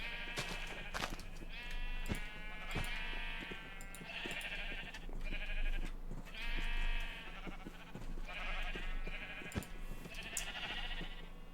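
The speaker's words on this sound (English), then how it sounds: "Sheep." Minecraft sheep bleating repeatedly in short, wavering calls at irregular intervals, with several overlapping now and then, over soft clicking game noises and a low background hum.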